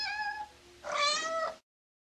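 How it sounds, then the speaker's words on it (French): A cat meows twice, a short call followed by a longer, louder one, close and clear with no talking, then silence. "J'ai un chat."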